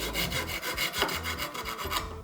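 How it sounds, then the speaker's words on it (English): A small wooden dowel being cut by hand, giving a steady rasping back-and-forth stroke repeated about ten times, close and fairly loud, with no voices. "I wanna cut off just a little bit because the other half of this dowel is going to stick in the template"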